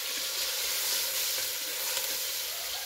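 Pepper and onion fry in a pan on a chulha, giving a steady, dense sizzle that holds close and even throughout with no talking.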